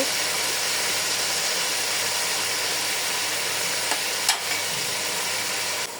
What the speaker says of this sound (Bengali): মুরগির মাংসটা ভাজা হয়ে গেলে আমি লবণ দিব